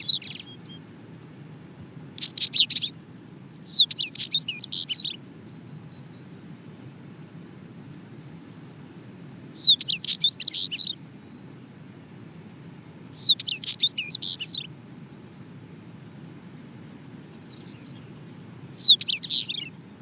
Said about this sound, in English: This used to be an anxiously awaited sound of spring,